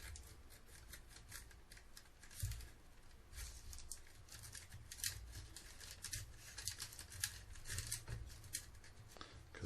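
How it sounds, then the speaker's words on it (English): Small scissors snip through craft material for a lighted lava flow model of a classic Snake Mountain toy playset, giving quiet, rapid clipping and rustling sounds up close, steady throughout with no talk. "I'm going to use the little scissors for this."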